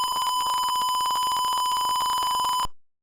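A motion detector alarm's buzzer sounds as one continuous, loud, shrill tone held for over two seconds before cutting off abruptly into silence.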